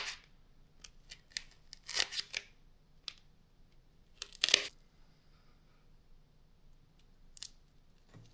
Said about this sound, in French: On va maintenant venir découper une sorte de rectangle de mousse.